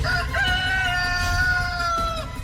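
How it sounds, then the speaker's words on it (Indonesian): A rooster crows once, a clear, long, drawn-out call heard close and loud over a faint background, with no speech. "Saat ayam berkokok"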